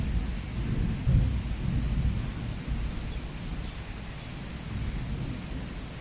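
Heavy rain pours steadily with deep rumbling thunder rolling underneath, a dense continuous wash of downpour with low booms swelling and fading throughout, no voices present.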